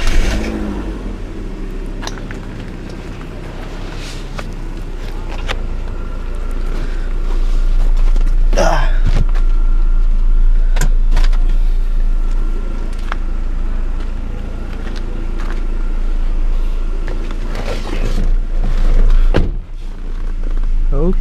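A 2001 BMW E46 318i engine idles while warming up after a start, a steady low rumble with slight rev swells, close by, with people talking intermittently over it.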